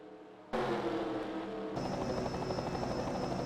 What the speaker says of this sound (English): We look above on the helicopter.